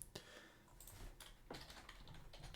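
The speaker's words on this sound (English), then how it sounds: "BA is what I just typed into my keyboard" Someone types on a computer keyboard, producing faint, quick, irregular keystroke clicks in short bursts with soft room noise behind them.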